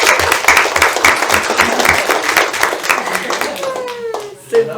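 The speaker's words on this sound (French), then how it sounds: "Bon, on peut l'applaudir." Audience at a municipal council meeting claps for a young boy, dense close applause that holds steady and then tapers off as voices come in near the end.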